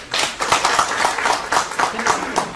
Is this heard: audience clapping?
yes